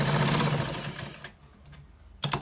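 A sewing machine stitches a white designed trouser, running in a loud, steady whir that fades and stops partway, followed by a brief restart near the end.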